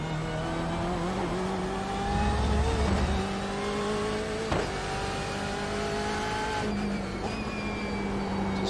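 A race car at Monza in a racing video game drones steadily at high revs near the listener, with gear shifts, brief dips and climbs in engine pitch, and faint tire noise.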